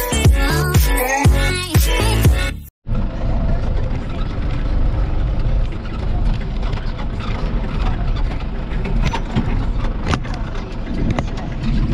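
A farm tractor pulls away with an empty tipping trailer to fetch compost for a greenhouse, its engine rumbling steadily and close for several seconds after a brief burst of music cuts off.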